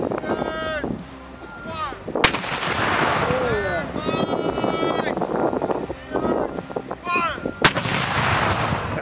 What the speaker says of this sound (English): But it all culminates with a firing salute that rocks the entire region.